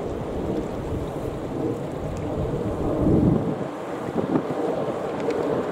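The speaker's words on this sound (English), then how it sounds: "It's a bit windy and starting to rain," Gusty wind buffeting a microphone outdoors as rain begins, a constant loud low rumble that swells and eases in gusts, with no speech.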